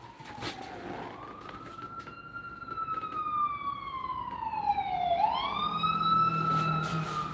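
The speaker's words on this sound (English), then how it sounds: "I hear sirens." Fire truck siren passing outside, a wailing tone sweeping up and down in pitch at moderate distance, with a low engine rumble joining near the end.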